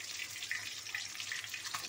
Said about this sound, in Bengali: দেখতে দেখতে দেখো আমার মাছ ভাজা হয়ে গেছে।